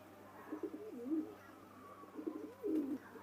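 Pigeons from a loft of paired racing birds give soft, low cooing calls in two rolling bursts, close and fairly quiet with no talk.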